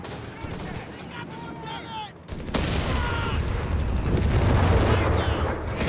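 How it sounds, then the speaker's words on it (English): Two 75mm cannons fire repeatedly across a small parking lot in the Company of Heroes 3 strategy game, with sharp booming shots and rumbling explosions piling up into a dense, loud barrage. "Got two 75mm cannons just firing across this small parking lot here."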